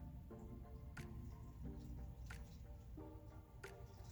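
Water poured from a measuring cup onto sand in a bin for an ocean-themed sensory play bin, heard as soft, faint, intermittent splashes and drips at a steady rhythm, recorded close by.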